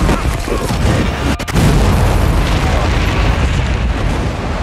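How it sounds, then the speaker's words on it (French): Loud, continuous rumbling blasts from explosions at the Boston Marathon in a film trailer, a dense booming roar filling the whole stretch with one brief dip near the start. "On vient de subir plusieurs explosions"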